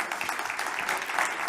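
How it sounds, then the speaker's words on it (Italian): Audience applause greeting a young sustainability worker from Eurojersey at a fashion technology event, a dense, steady patter of many hands clapping at close range throughout. "La salutiamo con un applauso."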